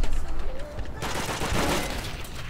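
Short burst of gunfire from a Call of Duty World at War PC multiplayer match, loud bangs crowding together with game noise behind them, no talk.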